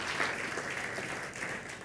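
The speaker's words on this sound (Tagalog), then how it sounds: "Ibalik natin ang ating ah, mapagpalang palakpak sa Kanya." A church congregation claps in praise during a service, a brief, soft, distant wash of applause that stays steady without standout claps.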